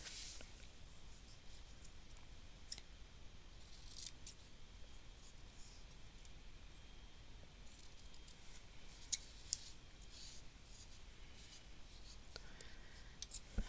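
Small scissors trim embroidery fabric into long crocus leaves, making soft, close snips and shaving cuts over a faint hiss, with a couple of crisper clicks toward the end.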